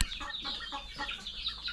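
Four-month-old farm chickens clucking nearby, a dense overlapping flock chatter with repeated short calls throughout.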